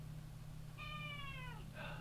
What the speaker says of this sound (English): Cat! Shut up.